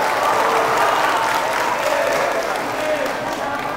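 Sustained applause from an audience gathered in a mosque, a dense, even roar of clapping hands lasting several seconds with voices mixed faintly underneath.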